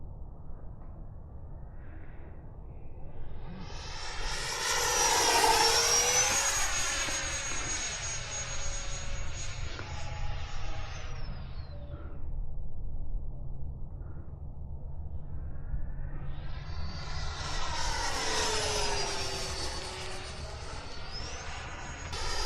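A Raptor Lite model jet flies past twice at a model airfield, its turbine whine rising and falling loudly as it approaches and recedes, alone without talk.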